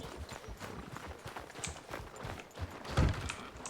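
A horse's hooves clip-clop on a trail in the western game Red Dead Redemption 2, a steady walking rhythm of soft thuds with a heavier bump near the end.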